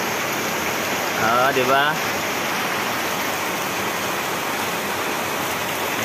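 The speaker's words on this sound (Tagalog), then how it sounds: "Lakas ng ulan dito sa bintana natin." Heavy rain beating at a window, a dense, loud, steady hiss filling the whole stretch, with a brief spoken word from a person partway through.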